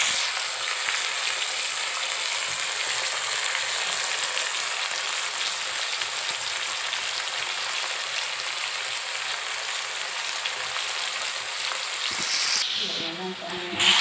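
A potato and pointed gourd curry sizzles steadily in hot oil as turmeric powder goes in, a continuous frying hiss that ends with a brief clatter near the close.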